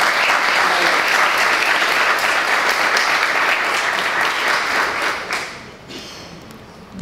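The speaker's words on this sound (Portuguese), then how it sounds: "eu queria que vocês dessem uma salva de palmas" Sustained audience applause at an academic conference session, a dense, loud wash of clapping from a large crowd that tapers off near the end.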